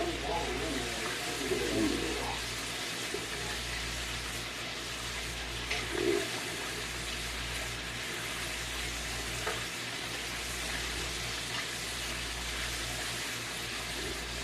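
Chicken deep frying in oil, a steady bubbling sizzle with a low hum underneath and occasional louder pops and crackles, continuous and even throughout with a voice faintly present at times.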